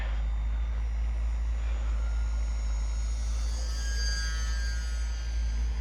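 Faint, distant whine of a UMX Turbo Timber RC plane's propeller flying at midnight, its pitch slowly rising and shifting over a steady low hum.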